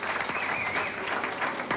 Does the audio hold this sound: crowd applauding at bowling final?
yes